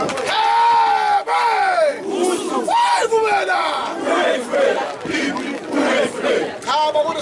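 Wedding guests at a Zulu wedding in KwaZulu-Natal cheer loudly for Mr Ngubane with rising, wavering whoops and ululating shouts. The crowd noise is close and energetic, bursting in repeated waves.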